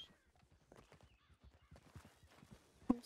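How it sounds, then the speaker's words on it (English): A horse in the Red Dead Redemption 2 game world moves behind the player with soft hoof clops, then a brief snort or whinny near the end, faint and close in a quiet scene. "Why does it sound like there was a horse behind me?"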